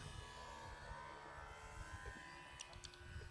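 An old electric RC plane, running on a worn-out battery, flies after taking off from water, giving a steady, continuous motor buzz with a droning whine that holds throughout.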